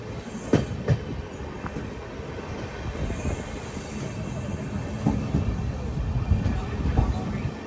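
The Jhelum Express rolls into Kopargaon station with a continuous rumble, rhythmic clicks of wheels over rail joints and a few sharp knocks, loud and close throughout.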